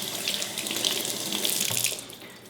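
Water runs steadily from a household tap fed by a whole-house filtered and conditioned supply, a close, continuous splashing rush into a sink with no voices.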